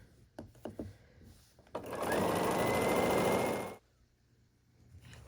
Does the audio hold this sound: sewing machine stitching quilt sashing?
yes